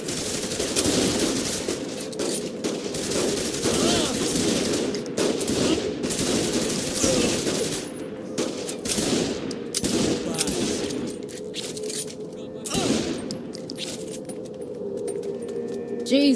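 Rapid bursts of gunfire crackle through a gunfight in the video game Saints Row The Third, repeated volleys and single shots over a busy backdrop, with characters talking in between.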